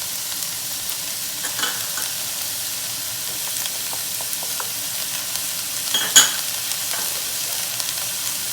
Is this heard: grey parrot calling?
no